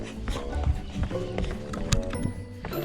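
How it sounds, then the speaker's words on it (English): Footsteps run quickly down stone steps toward a cave, with irregular close taps and scuffs at an uneven, hurried rhythm in a busy outdoor setting. "Literally running down steps."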